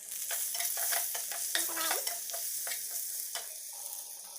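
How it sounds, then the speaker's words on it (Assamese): Spices frying and being stirred in a pan with bay leaf, green chilli, black pepper, cumin and coriander powder for an Assamese garlic fish dish, giving a steady close sizzle broken by repeated scraping strokes of the spoon. "ভালকৈ ভাজি লৈছোঁ।"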